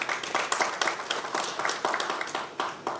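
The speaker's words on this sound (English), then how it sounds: "he deserved big round of applause" An alumni gathering's audience breaks into applause, a lively crowd clapping with audible individual claps and uneven bursts, fairly close and loud for a few seconds.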